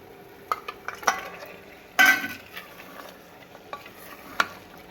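Egg dropped into a frying egg curry in a pan and stirred, giving soft scrapes, a few clinks and a brief louder sizzle burst, with no talking.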